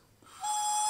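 A single voice imitates a female wood duck's call, a brief rising whistle-like squeal that holds a thin, bright tone.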